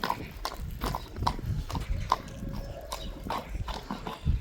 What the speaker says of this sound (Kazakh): Азыр атты ары бер бастырсын.